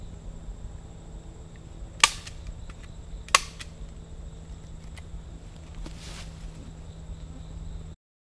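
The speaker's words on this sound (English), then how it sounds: "It's really weak, so once you put the staple in," Two sharp, distinct staple snaps about a second apart as plastic tree banding wrap is stapled to a tree outdoors, over a steady low hum and light rustling.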